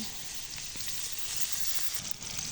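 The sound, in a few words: onions frying in oil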